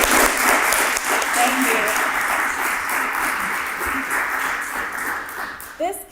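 Church meeting congregation applauds committee members, a steady wash of clapping from a sizable room that tapers off near the end as a voice speaks briefly.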